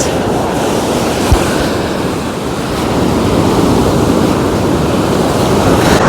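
Loud, continuous Black Sea surf washes and rumbles as waves break nearby on the shore at Chornomorsk, mixed with wind buffeting the microphone; no voices.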